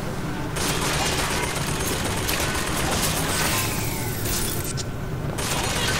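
Dense, continuous gunfire fills a BioShock Infinite firefight, with loud, sustained bursts of shooting and no clear break.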